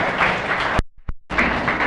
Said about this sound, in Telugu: ఈయన కోసం మనం గట్టిగా ఒకసారి చప్పట్లు కొట్టచ్చు కదా